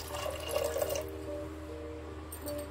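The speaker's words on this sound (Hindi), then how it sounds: "पानी और ऐड करूंगी।" Water is poured into a pot of dal and rajma being boiled for dal makhani, a short splashing trickle heard up close with faint kitchen clatter and no talk.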